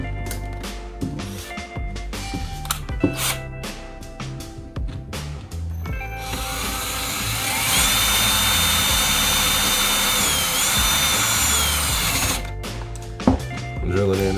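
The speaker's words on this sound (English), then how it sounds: "So I'll bring out my trusty drill." A power drill whirs steadily for several seconds while driving a screw into a Strike Industries modular fixed stock, its motor pitch sagging briefly under load, with clicks and handling noises before and after and someone talking.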